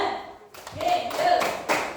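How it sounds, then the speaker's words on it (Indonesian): A class of children claps in a classroom, a few scattered bursts of hand claps separated by short pauses, with voices of children and a teacher mixed in. "Tepuk tangan untuk Nadia."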